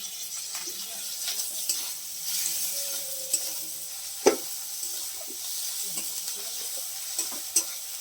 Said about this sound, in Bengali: টমেটো কুচিটা কড়ার মধ্যে দিয়ে দিলাম